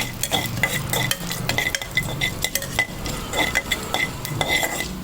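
Urad dal, onion, curry leaves and garlic fry in oil for a drumstick-leaf soup while a metal spoon stirs and scrapes the pan. A soft sizzle runs under close, repeated clinks and scrapes, and no one talks.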